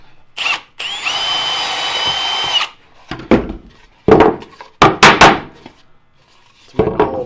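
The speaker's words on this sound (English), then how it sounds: "I'm going to take my 1/4 inch drill bit," A power drill fitted with a 1/4 inch bit bores into wood inside a routed groove for an enclosure build, giving a loud, close whirring burst followed by several short, sharp clatters and knocks.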